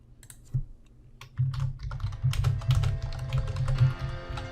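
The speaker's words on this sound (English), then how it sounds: "Now you can just start typing." Computer keyboard keys clacking in a steady stream of typing, close and fairly loud, with no one talking.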